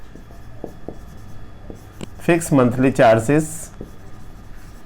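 Pen or chalk scratches out notes for a linear equations lesson, faint irregular strokes near the microphone, with someone speaking over the middle part.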